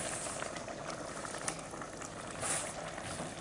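Broccoli and potato simmering in a pot as the mixture returns to a boil: a continuous, close bubbling and soft rumble over a few seconds, with no voices.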